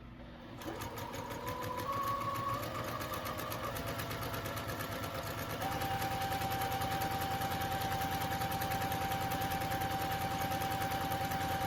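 A sewing machine stitches around a circle on a fabric jar cover, a close, steady rapid whir running continuously after a brief start, with a faint high tone through it.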